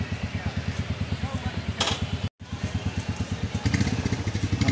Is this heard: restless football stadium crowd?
no